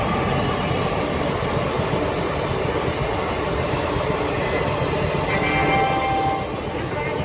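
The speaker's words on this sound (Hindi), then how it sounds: "बेगमपुर एक्सप्रेस निकल रही है।" Begampur Express rolling past at close range, a loud steady rumble of wheels and carriages with faint rail clatter, continuous throughout with no voices.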